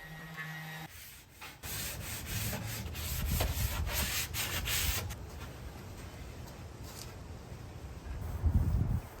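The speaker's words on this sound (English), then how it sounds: "I scuff sanded using 120 grit all the way around with my orbital sander" An orbital sander with 120-grit paper whirs and rubs against a wooden dresser in steady passes, close and fairly loud, with a brief pause partway through.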